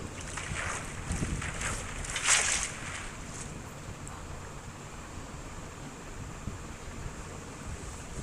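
Water inside an ocean monument in Minecraft, a continuous washing, sloshing ambience with a brief swell of splashing near the middle before it settles back to a soft, steady wash.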